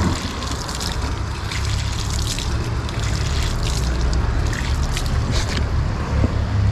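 Water pours steadily from a public drinking fountain tap outside the Basilica of Saint John Lateran in Rome, a continuous close splashing rush with faint street ambience behind it.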